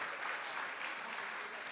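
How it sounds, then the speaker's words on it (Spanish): Steady, even applause from a conference audience welcoming a speaker, a dense wash of clapping from many hands, fairly distant and unbroken, with no voices above it. "Recibimos con un fuerte aplauso a nuestra conferencista, la doctora María Elvira Aguirre."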